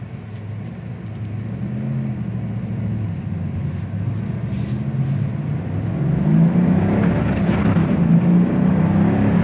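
A 1997 Chevrolet Camaro Z28's engine roars steadily and climbs in pitch as the car accelerates through the gears, loud and close from inside the cabin.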